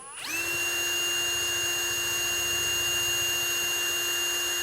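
A power drill with a 6 mm bit spins up with a rising whine and then holds a steady, loud, high-pitched drone, grinding continuously close by while enlarging holes in plastic.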